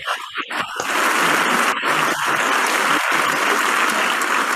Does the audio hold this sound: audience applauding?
yes